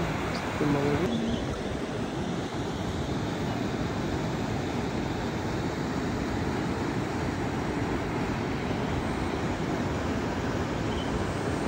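A steady, continuous rush of flowing stream water over rocks and large boulders, even and unbroken throughout, fairly close, at a hot spring.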